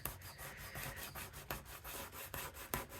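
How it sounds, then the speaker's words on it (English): Dried glitter glue being scraped off a desk surface: a steady rasping, rubbing scrape that runs throughout, with a few sharper scratches punctuating it, close and fairly quiet. "Scrape it off."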